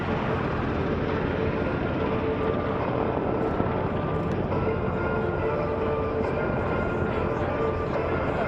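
Military CH-47 Chinook and UH-60 Blackhawk helicopters of the Connecticut Army National Guard fly during an air show demonstration, giving a steady, broad, constant rotor and engine drone that fills the whole stretch.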